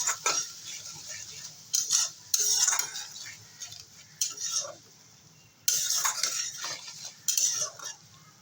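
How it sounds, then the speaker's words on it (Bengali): A spatula scrapes and clinks in a pan as spices with salt, turmeric and chili powder are sautéed for fish curry with pointed gourd, in repeated bursts of stirring over a faint sizzle. "একটু জল দু মিনিটের মতো কষিয়ে নেব"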